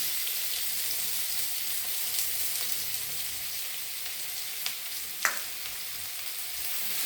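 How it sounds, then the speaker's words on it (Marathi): Onion frying in a crackling turmeric tempering for a spicy tomato vegetable dish, a steady broadband hiss of hot oil with a couple of isolated sharp pops near the end, close and even, no speech. "फोडणी तडतडल्या लागली आता त्याच्यामध्ये मी कांदा घालून घेते"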